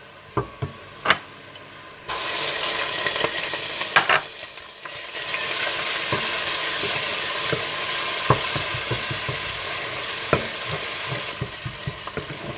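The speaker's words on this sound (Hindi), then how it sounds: "जैसे ही प्याज हल्के से गोल्डन ब्राउन होने लगे तो आप इसमें अदरक लहसुन डालकर थोड़ा भून लें" Loud, steady sizzling of onions frying with ginger and garlic in a hot pan, with scattered clinks and scrapes of a spoon stirring throughout.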